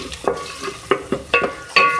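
Potatoes and cauliflower fry in a pan for degi aloo gobi, with a steady sizzle broken by several sharp stirring scrapes and clanks at roughly half-second intervals, heard up close with no talking.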